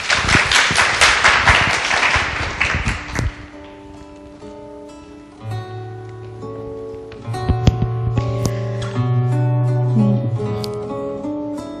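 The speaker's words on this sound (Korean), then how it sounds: "박수 부탁드릴게요" On a Korean book radio show, a short burst of studio audience clapping lasts about three seconds and stops abruptly, giving way to quiet sustained musical tones.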